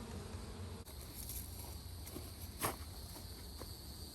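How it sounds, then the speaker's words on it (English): Honey bees buzz steadily close by in a hive, a continuous droning hum with a few brief knocks and rustles. "Looks like they've got quite a few bees."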